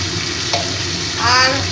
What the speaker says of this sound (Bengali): দিয়ে আবার মশলাটাকে আমি ভালো করে কষে নেব